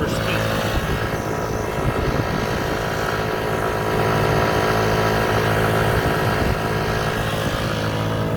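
A motorcycle engine drones steadily and loudly as the bike crawls slowly up a very steep stretch of Highway H toward Oak Glen, with heavy wind buffeting throughout.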